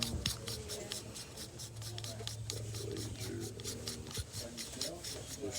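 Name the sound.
reassembling Griffin Armament Bushwacker 46 suppressor, screwing in parts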